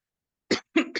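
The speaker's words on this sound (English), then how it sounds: "I'm starting to cough a little bit" A man's coughs in a quiet room, one short cough then a quick double cough, close and clear with no other sound around them.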